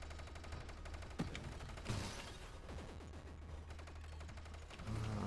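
Enemy bullets firing in the space shooter Nova Drift, a rapid rattling barrage of small shots with a few sharper impact bursts, quiet and continuous, with no talk.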